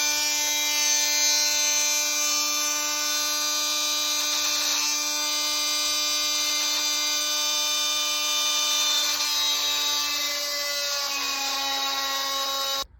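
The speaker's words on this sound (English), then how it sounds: "okay, we got the hole made. It definitely took a bit of a beating because of the aluminum" A drill whines steadily as it bores a hole through aluminum while fitting a G37 drift switch, a constant high buzzing close by that holds for several seconds and cuts off at the end.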